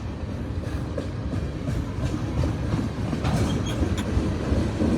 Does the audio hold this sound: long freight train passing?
yes